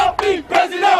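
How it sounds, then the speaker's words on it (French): Several hundred young voters, average age about 25, cheer and shout at an opposition political rally in a Gabonese neighbourhood, some standing on rooftops. The crowd roars loudly and continuously in overlapping waves. "Une foule en délire, moyenne d'âge 25 ans, plusieurs centaines de jeunes électeurs"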